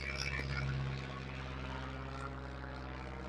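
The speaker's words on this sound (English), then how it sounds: "It's an airplane." A propeller airplane drones steadily overhead, a low continuous engine hum that swells briefly near the start and then holds at a moderate, fairly distant level, with no talk over it.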